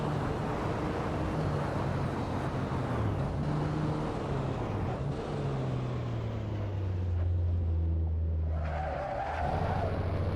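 Race car engine in Assetto Corsa at the 1950 Pau Grand Prix, a post-war grand prix car, droning and shifting pitch as it climbs and falls through gears, steady and moderately loud with tire noise.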